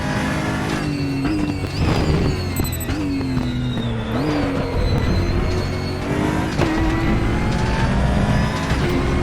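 An Aquila CR1 race car in RaceRoom laps Portimao with a loud, steady engine note that climbs through the revs, dips briefly on lifts and gear changes, then pulls again, running close and continuous with no talk.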